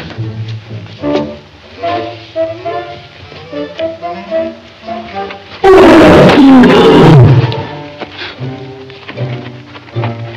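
A lion lets out a loud, close roar in a single burst of a couple of seconds, rising over an orchestral music score in a 1941 musical comedy film.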